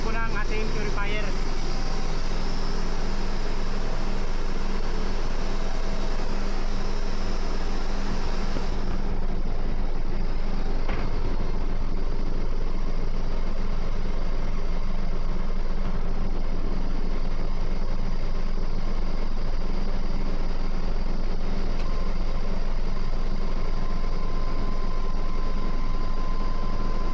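A ship's fuel purifier in the engine room spinning up toward full speed, a loud steady mechanical roar with a constant whine over it, the pitch settling partway through, with someone talking over it.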